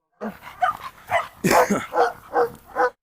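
A bulldog barks close by in a run of about seven loud, gruff barks at a fairly regular rhythm, with short pauses between them and no one talking.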